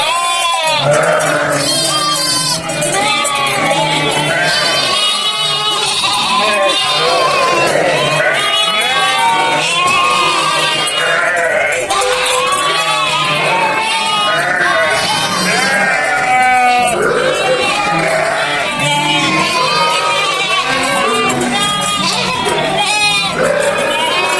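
Lambs and ewes bleat constantly and loudly on a village farm as they reunite, a dense overlapping chorus of many animals that runs the whole time, with people talking and laughing among them.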